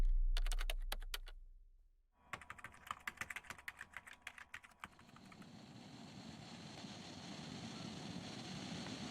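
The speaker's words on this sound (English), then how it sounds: "I hear typing when I try to go to bed." Rapid keyboard typing comes in irregular bursts of sharp clicks, pausing briefly, before giving way to a steady low background hum late at night at bedtime.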